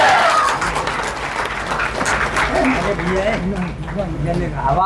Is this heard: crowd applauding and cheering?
yes